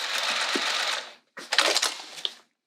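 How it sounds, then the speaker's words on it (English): Sewing machine lock stitching a seam on a vinyl bag, a steady mechanical chatter of rapid stitches for about a second, a brief pause, then a second burst of uneven stitching with a few louder knocks, close and clear. "I'm going to lock stitch."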